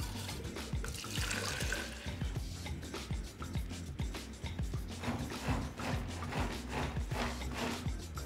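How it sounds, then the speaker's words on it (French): A vanilla ice cream base is blended into a thick liquid that churns and sloshes with irregular wet gurgles and mechanical clatter, close and moderately quiet with no speech. "puis on va la mixer."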